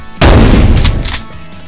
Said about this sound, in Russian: Просто выстрелить вот так